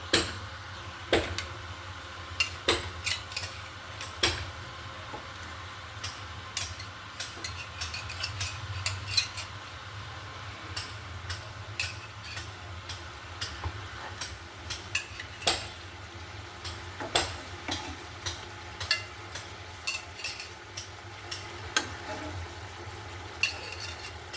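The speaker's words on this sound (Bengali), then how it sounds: "এখন আমি মাছটা দিয়ে দিব" Hilsa fish in a pan, sizzling steadily in hot oil while being stirred, with frequent sharp scrapes and clinks of a utensil against the pan, close and fairly quiet.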